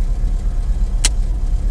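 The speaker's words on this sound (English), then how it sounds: "starts the car." A VW Vanagon engine, started through an ignition bypass switch, runs with a steady low rumble close by, broken once by a sharp click.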